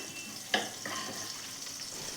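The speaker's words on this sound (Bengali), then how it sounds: "তাতে আরেকটু সর্ষের তেল দিয়েছি, দিয়ে এর ভেতরে কালো জিরে ফোড়ন দিলাম।" Nigella seeds and slit green chillies sizzle in hot mustard oil, a steady close crackling fry with a brief sharper burst near the start, no talking.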